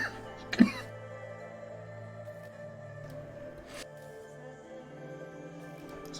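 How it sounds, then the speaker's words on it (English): One short, sharp cough from a player at a tabletop role-playing game session bursts out near the start, over quiet, steady background music, followed by a fainter catch a few seconds later. "It's coughing."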